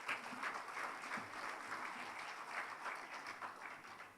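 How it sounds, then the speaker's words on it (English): Applause from a conference plenary audience fills the whole stretch, a steady dense clatter of many hands clapping, somewhat distant and moderately loud. "Another round of applause to Dr. Simon."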